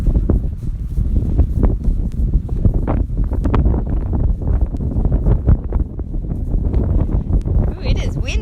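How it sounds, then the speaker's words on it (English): Strong wind buffets the microphone in gusty, rumbling bursts outdoors on a trail ride at a horse park, with a voice speaking briefly. "Ooh, it is windy."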